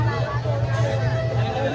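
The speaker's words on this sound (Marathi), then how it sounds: "बाहेरूनच गर्दी बघा तुम्ही किती आहे" Crowd noise at a temple fair in Karjat for Tripura Purnima: a dense murmur of many voices with steady low hum, continuous and close around.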